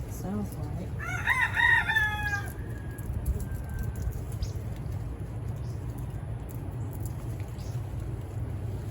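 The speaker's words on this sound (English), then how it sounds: "talking to another rooster on the other side of the street" A rooster crows once at close range in a backyard, its strained, wavering call lasting about two seconds over steady low rumble and outdoor background noise, then the yard falls back to ambient hum.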